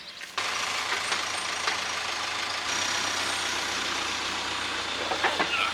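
A tractor with a post pounder mounted on its side runs steadily at fence-building work, its continuous low engine drone holding alone and fairly close with faint clanks on top.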